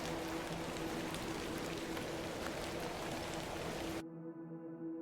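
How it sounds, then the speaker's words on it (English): Steady rain falls throughout a scene in the video game The Excavation of Hob's Barrow, a constant even hiss with a low hum underneath, cutting out abruptly near the end. "Little rain is no bother."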